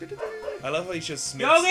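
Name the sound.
dog barking in the video game Shovel Knight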